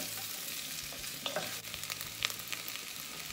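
Chopped onions fry in oil in a pan for a rice and lentil dish: a steady, quiet sizzling hiss with a few small clicks and scrapes from stirring, and no voices.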